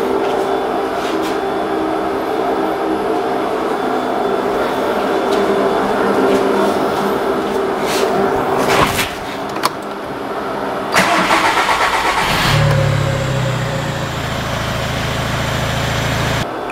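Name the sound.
diesel car engine cranking and starting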